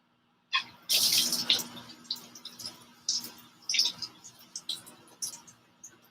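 A kitchen tap gushes on suddenly and keeps running as items are washed beneath it, the splashing stream shifting and breaking up as things move under the water, close and fairly loud.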